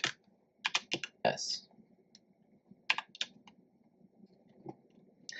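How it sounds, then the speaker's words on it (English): Fairly faint bursts of computer keyboard typing, with clusters of clicky keystrokes separated by short pauses and a single spoken letter between them. "Let's type that down."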